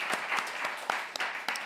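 Short burst of congregation applause during a Sunday church service, fairly quiet and distant, with scattered individual claps poking through the soft clapping.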